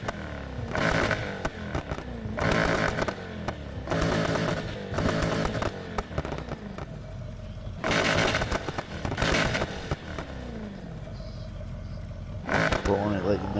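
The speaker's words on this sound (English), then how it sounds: "The exhaust sound." A car in a PS4 racing game revs in loud repeated bursts of exhaust roar, several distinct surges separated by quieter idling, with people talking over it.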